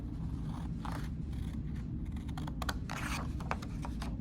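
Scissors cut out a paper drawing, giving a series of close, crisp snipping strokes that cluster toward the end, over a steady low background hum.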